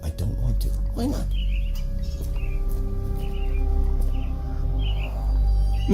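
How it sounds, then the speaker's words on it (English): Caged myna birds chirp in short high bursts over a steady low background hum inside the Edelweiss Institute in a Sherlock Holmes video game, with a voice speaking near the start. "Minor birds, if I'm not mistaken. Beautiful creatures. How sad that they're caged here."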